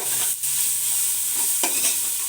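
Food for biryani, with tomato, coriander and mint, is stirred and sautéed in a pan, giving a steady close sizzle with a few scraping stirs and no talk.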